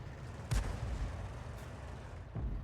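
Booming artillery shots from the 105 leFH18B2 gun in a tank battle game, a distant heavy report near the start, another faint one later and a third toward the end, over steady low battlefield rumble.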